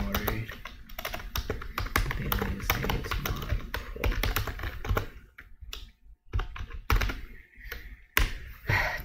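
Rapid keystrokes on a computer keyboard while entering a paragraph of HTML code, a dense run of close, fairly loud taps that breaks into shorter bursts with brief pauses toward the end.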